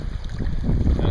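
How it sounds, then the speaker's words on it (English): Gusting gale-force wind on the Deschutes River during steelhead fishing, a loud, close rumbling buffet of wind against the microphone that swells over a second without letup. "cast in the gale force winds, probably upwards of gusting"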